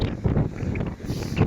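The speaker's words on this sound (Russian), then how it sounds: "Шквалистый ветер встречный." Strong, squally headwind on a stormy Black Sea beach at Vityazevo, roaring steadily across the microphone as gusts buffet it, with a rushing surf-like wash underneath.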